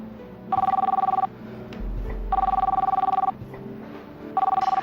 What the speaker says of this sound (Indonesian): Boleh saya angkat telepon ya?